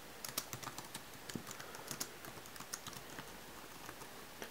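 Quiet, irregular tapping of keys on a computer keyboard, a run of light clicks with occasional heavier strokes, recorded close with no talking.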